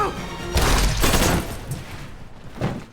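Gunfire rings out in an action film, with several loud, blasting bursts in quick succession. They fade into a ringing tail, and one last shot cracks out near the end.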